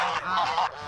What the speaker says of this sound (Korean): 갑자기 한적함을 깨고 거위들이 울기 시작하는데요